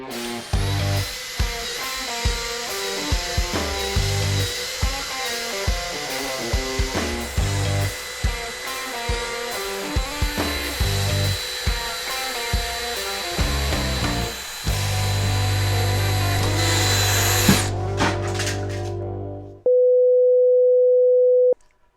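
A DeWalt cordless drill with Power Stack batteries whirs in repeated short bursts in drill mode, steady motor pitch rising and falling, then a longer continuous run before it stops and a steady tone remains.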